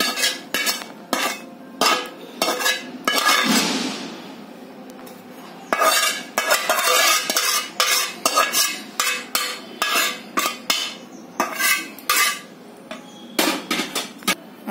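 Roasted dry coconut is scraped out of a pan with a metal spoon for karanji filling: a steady run of sharp clanks and scrapes, close and fairly loud, with a longer grating stretch partway through and no talking.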